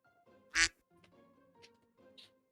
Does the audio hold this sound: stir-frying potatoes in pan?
no